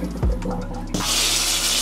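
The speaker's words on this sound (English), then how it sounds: "your next step is gonna drain the water" Water running and draining from a sink after hand-washing clothes with cold water and detergent, a close gurgling rush that suddenly swells into a steady hiss.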